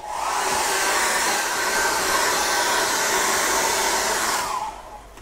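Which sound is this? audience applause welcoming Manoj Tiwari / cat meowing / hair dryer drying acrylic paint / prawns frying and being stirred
hair dryer drying acrylic paint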